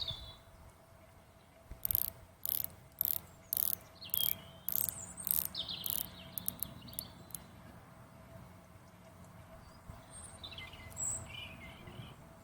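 Seiko SKX dive watch bezel turned outdoors, a run of about ten crisp, evenly spaced ratchet clicks followed by a few lighter ticks, with crickets and birds chirping in the background.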